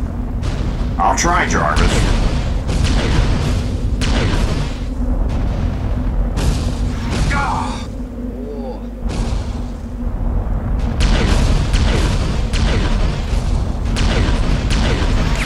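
Cannon fire in the Iron Man video game, with heavy booming explosions bursting one after another in a dense, loud, near barrage over rumbling noise, and a brief pause partway through; a voice speaks briefly during the firing.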